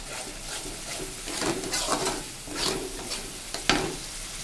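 Food frying in a pan for a home-style egg dish is stirred repeatedly: a soft, steady sizzle with scraping strokes of the spoon at irregular intervals and a sharper clink near the end, close and moderately quiet.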